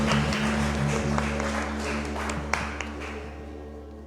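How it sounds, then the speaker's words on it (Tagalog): A congregation at a midweek church fellowship service applauds steadily, a soft continuous clapping over a low electrical hum. "So palakpak po sa buhay ng Diyos para po sa buhay ng ating kapatid na si Sister Clarissa Soriano."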